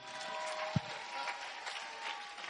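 A church congregation applauds to acclaim the Lord for a guest reader, giving a steady, moderately loud burst of clapping from many hands that fills the short moment.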